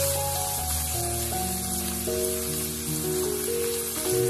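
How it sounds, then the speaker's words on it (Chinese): Minced ginger, garlic and xiaomila chili stir-fried in a wok over high heat, cooking for ants-climbing-a-tree glass noodles with minced pork; a steady, continuous sizzle runs throughout with background music layered over it. "炒香之后再把姜蒜末小米辣放入锅中，开大火快速的翻炒，将它们炒出香味"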